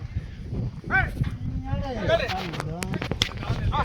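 Several Punganur cows moo, low drawn-out calls overlapping one another, close by, with people talking intermittently in the background.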